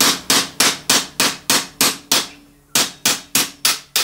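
Rapid, loud blows from a small hammer strike metal on a Husqvarna K970 engine during a rebuild, in a steady rhythm, about a dozen hits with one brief pause.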